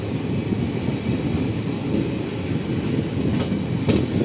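The Mysuru–Sengottai express rumbles along the rails, a steady loud rolling roar with faint clickety-clack from the wheels, heard from aboard and without talk.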